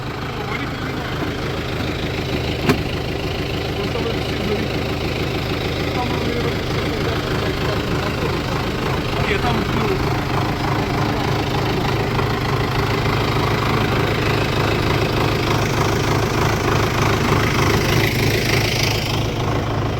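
An MTZ-82 tractor engine runs steadily with a 4-metre cultivator attached, a continuous low diesel rumble and knock heard close by in damp outdoor weather with a brief click early on.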